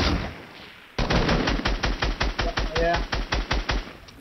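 Gunfire in Fortnite during a duo tournament match, a rapid run of about a dozen sharp, loud shots in a regular rhythm after a brief quieter lead-in, with a short spoken word.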